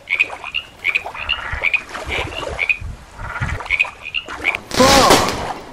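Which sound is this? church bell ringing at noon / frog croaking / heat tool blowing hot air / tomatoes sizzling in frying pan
frog croaking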